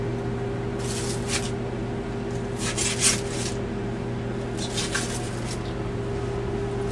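A knife slices through hot pork, cutting half-inch slices with soft, short scraping strokes over a steady hum, a few close rasps standing out.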